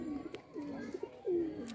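Pigeon cooing in short, soft, low throaty phrases, a few separate coos with one longer, louder coo near the end, close by and alone.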